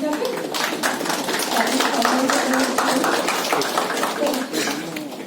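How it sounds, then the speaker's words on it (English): An audience at a national sports event claps for visiting football guests: steady, fairly close clapping that runs throughout, with a voice murmuring underneath. "Can I have the applause for them?"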